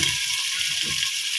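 Chopped onions frying in about half a cup of hot oil, a continuous bright sizzle with a faint low stirring underneath, steady and close.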